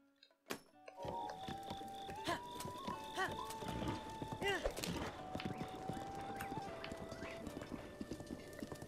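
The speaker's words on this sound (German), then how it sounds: "Du hübsches Pferd." Horse hooves clip-clop steadily in the video game The Legend of Zelda: Breath of the Wild, with a whinny and game chimes over the rhythmic trotting.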